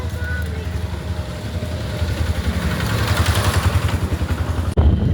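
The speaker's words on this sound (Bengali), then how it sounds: "motor cycle already ready" A motorcycle engine idling and revving close by, a steady rumbling putter that grows busier before cutting off abruptly, with faint voices in the background.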